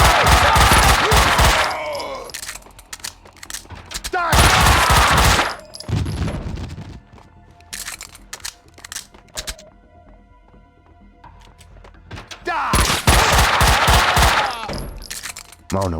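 Gunfire in Max Payne 2, loud automatic bursts in three separate volleys with quieter game ambience and faint tones between them.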